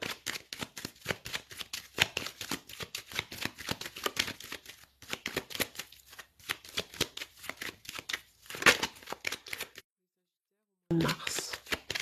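A deck of tarot cards is cut and shuffled close up: dense, rapid papery slaps and riffles run continuously for about ten seconds, with a short silent pause before a final burst of card handling.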